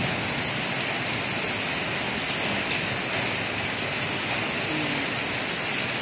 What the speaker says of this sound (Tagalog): Dito sa ulan